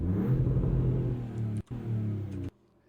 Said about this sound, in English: So let's hear the exhaust on this thing.